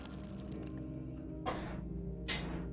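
A person sneezes over a quiet, humming spaceship-game background, two sharp bursts about a second apart, the second louder and brighter.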